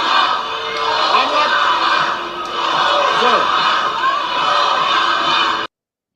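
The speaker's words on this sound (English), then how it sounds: "the people who are cheering Obama in the audience" A rally audience cheering Obama: a dense crowd roar with whoops and shouts, loud and sustained throughout before cutting off abruptly near the end.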